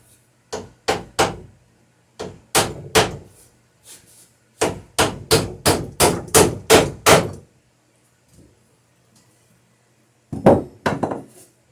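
Hammer blows drive nails into a wooden boat stem on a dory build, sharp strikes in quick bursts of two to six with pauses between, close and loud with no talk.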